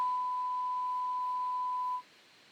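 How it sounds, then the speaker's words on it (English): A steady electronic EAS alert beep holds a single pure tone for about two seconds, then cuts off, leaving a faint hiss behind it. "It's literally just a team beep."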